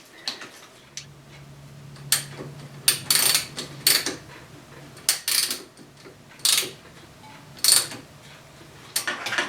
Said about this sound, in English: socket's slipping over the nut now